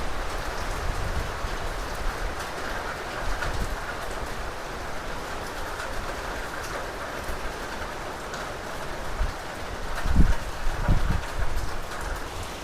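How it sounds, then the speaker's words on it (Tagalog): Steady heavy rain from Typhoon Enteng hisses across surfaces in Ilocos, Philippines, with gusting wind noise and a few louder thumps near the end. "Malakas na nga po yung hangin at saka ulan."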